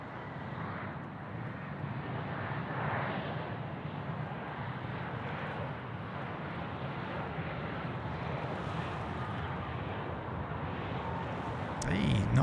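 A Delta Airbus A350-900 jet at Sydney Airport lines up on the runway, a steady distant engine rumble with wind noise, and radio chatter faintly under it.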